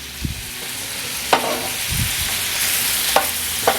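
Shrimp frying in butter in a pan for New England style shrimp rolls, a steady soft sizzle with a few sharp clinks and scrapes of a utensil stirring, no voices.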